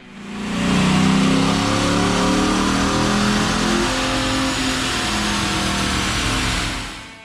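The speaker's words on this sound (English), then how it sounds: "let's put this Durango back on the dyno and see what it does." Dodge Durango with a Hemi V8 on a dyno, fitted with a cold air intake and air-oil separator, revving hard in one sustained, loud, close pull that rises and holds before dropping off at the end.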